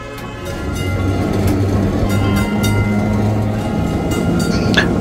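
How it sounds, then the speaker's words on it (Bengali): A heritage tram rolls through crowded old Kolkata streets, its steady low rumble and rattling wheels continuous and close, with faint clinks and street noise around it. "ঠেলাওয়ালাটা ঠেলা সরালে তবে এগোতে পারছে ট্রাম"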